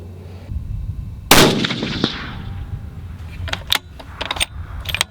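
A single loud, close rifle shot from a Bergara Wilderness Sierra 7 PRC firing Hornady ELD handloads, a sharp blast with a decaying echo, followed by faint metallic clinks and rustling.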